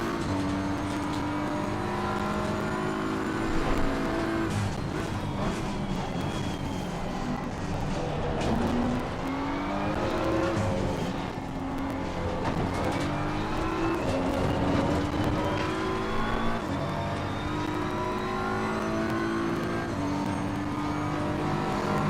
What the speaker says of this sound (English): See what kind of speed this Porsche has down the straightaway.